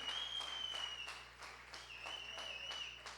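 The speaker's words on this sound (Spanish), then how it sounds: "Denle un aplauso fuerte al Señor" Church congregation applauding and clapping during a lively worship service, a steady, fairly faint patter of many hands under a sustained tonal whistle or tone.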